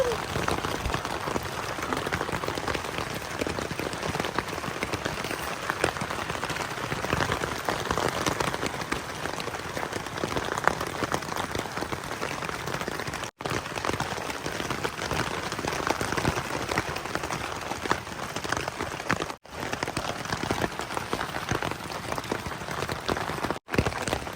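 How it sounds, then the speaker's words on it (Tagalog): Steady, dense rainfall hisses continuously at a campsite on the Bruce Peninsula at night, a broad even roar with no voices and no letup. "Ang lakas ng ulan."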